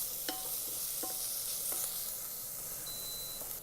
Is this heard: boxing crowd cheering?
no